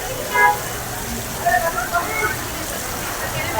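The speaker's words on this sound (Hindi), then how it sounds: "ये देखिए बारिश, कितनी तेज बारिश हो रही है यहाँ पे।" Heavy rain falls steadily outside a Delhi metro station near a festival pandal, a constant broadband hiss with brief louder bursts, while someone talks over it.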